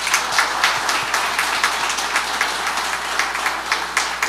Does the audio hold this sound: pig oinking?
no